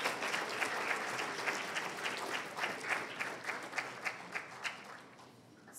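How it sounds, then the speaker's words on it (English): Audience applause for wrestlers at a town hall event, a steady wash of many hands clapping that slowly thins into a few scattered claps. "Clap them on down."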